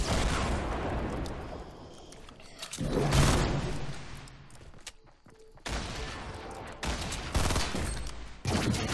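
Bursts of rapid gunfire from the video game Fortnite come in loud clusters separated by brief lulls, with dense blasts close up.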